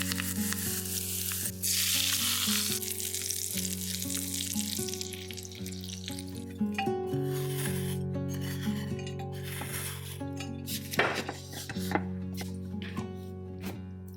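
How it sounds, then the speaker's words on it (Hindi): Mustard seeds, urad dal, dried chillies and curry leaves crackle and sizzle in hot oil, a bright hiss running throughout with occasional stirring, over a steady background tone. "चटनी को छौंक लगाने के लिए सरसों, उड़द दाल, सूखी मिर्च और करी पत्ता।"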